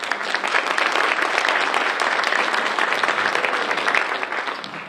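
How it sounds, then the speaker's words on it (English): An audience at a chamber of commerce gathering applauds an award winner, a dense, even round of clapping that holds steady and only begins to taper at the very end. "Let's give them a round of applause."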